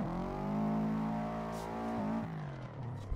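A Subaru drift car with the iconic blob-eye body revs its engine in Assetto Corsa, giving a steady, rich, loud engine drone that dips briefly and then settles, heard close with no voices.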